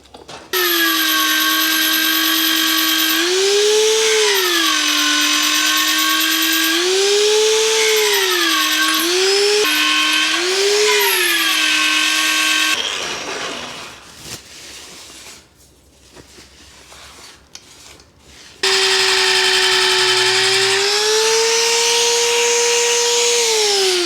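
A drill bores holes through a steel dump truck frame, a loud close whine that repeatedly dips and recovers in pitch under load, breaks off into scraping and clatter, then spins up again at a steady high pitch.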